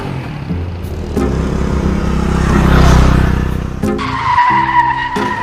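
A second-hand car, bought for 20,000 rupees, skids in a loud tire squeal with a roaring engine that swells to a peak mid-way and then eases, followed by a tonal engine whine near the end.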